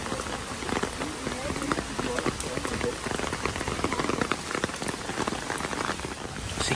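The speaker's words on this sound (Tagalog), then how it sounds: "Kaya okay na rin kahit umuulan." Rain falls on a street in Taiwan, a dense hiss of drops spattering the pavement close by, while a person talks over the steady downpour.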